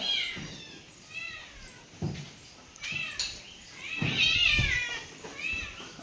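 A cat meows repeatedly, several drawn-out cries at irregular intervals, fairly close, with quiet background noise between them.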